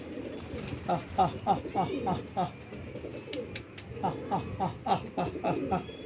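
A black-marked pigeon coos from an open rooftop in a steady series of about a dozen soft, evenly spaced calls, with a short pause midway and faint voices underneath.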